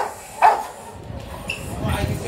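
A guard dog at a dog market gives one short yelp or bark, near and fairly loud, followed by faint outdoor crowd murmur and scattered voices.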